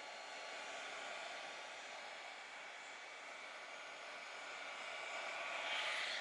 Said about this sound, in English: I move the heat gun to the next spot